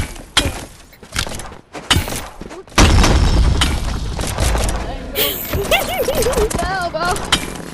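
RPG rocket blast in the Animal Company arena game, a sudden heavy boom with crashing debris followed by a sustained rumble, loud and close, with excited voices talking over and around it.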